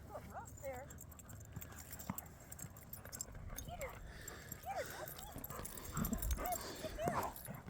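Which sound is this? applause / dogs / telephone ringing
dogs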